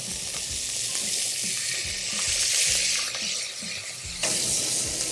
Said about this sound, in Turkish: Evet, tavuklar kızarmaya başladı.